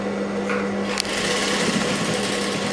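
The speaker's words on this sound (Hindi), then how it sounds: "और यहाँ पे हम लोग डबल सिलाई मार लेते हैं तो पाइपिंग अच्छी बन जाएगी हमारी" A sewing machine stitching piping onto a blouse, running continuously with a steady, loud mechanical whir and a fast needle clatter throughout, with a brief knock partway through.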